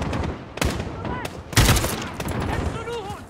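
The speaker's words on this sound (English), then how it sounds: "Stop shooting, buddy." Gunfire rings out in a Call of Duty campaign mission: scattered sharp shots and short bursts, including a loud close volley midway, with someone speaking between them.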